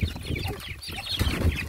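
Several chickens near a farm shed, where they eat onions, cluck in short, close, irregular bursts, with no talking.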